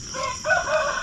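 A rooster crows once at a rural riverside spot, a short wavering call at moderate distance over a faint background hiss.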